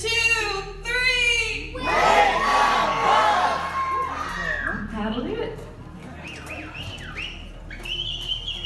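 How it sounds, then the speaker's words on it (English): An audience at a Magic Kingdom show yells loudly together on a count of three, a big burst of mixed shouting and cheering with high children's voices, fading into scattered whoops as a performer speaks. "on the count of three, I need everyone to yell as loud as you can"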